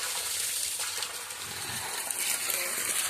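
Water flows steadily from a homemade electricity-free pump driven by Sprite soda, a continuous hissing trickle with faint splashes, heard close and alone.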